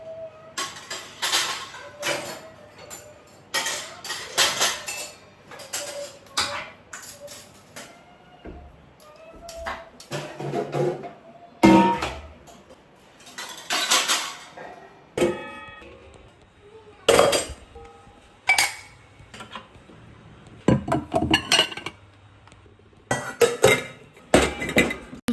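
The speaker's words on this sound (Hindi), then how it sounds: "सुबह के धुले हुए बर्तन सब सूख गए थे। मैं इनको अपनी अपनी जगह पे रख दूँगी।" Washed and dried dishes and utensils are put away in a kitchen, with repeated clinks and clangs of metal and glass at an uneven pace, loud and close, with short quiet gaps between.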